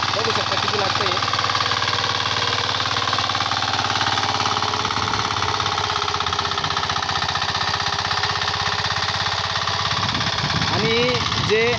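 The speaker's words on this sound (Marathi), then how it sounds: "तुम्ही पण असंच पॉवर विडर घेऊन आधुनिक पद्धतीने शेती करू शकता." A 9 hp power weeder engine runs continuously in a farm field, a loud, steady, close mechanical drone with rapid rhythmic knocking throughout.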